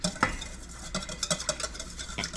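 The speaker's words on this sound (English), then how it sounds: "whisk it in together like this" A whisk stirs melted tallow balm ingredients together in a bowl, giving quick, irregular clinks and scraping strokes that sit close and fairly soft.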